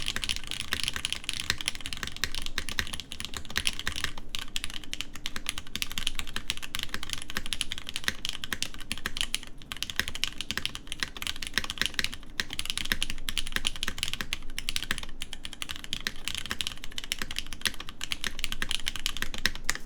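Continuous close-up typing on a BeatLab Solar80 mechanical keyboard fitted with Gateron X switches, a steady stream of crisp keystrokes with no voices.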